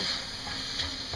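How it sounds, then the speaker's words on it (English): Onions and garlic frying over medium heat in a pan for shepherd's pie, a steady close hiss of sizzling with faint stirring scrapes, alone without talk. "I'm just going to fry that over medium heat and get that all brown"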